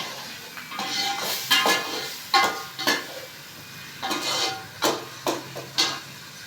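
Tomatoes and garlic stir-fried in a pan, with a spoon scraping and tapping the pan in uneven bursts over a soft background sizzle.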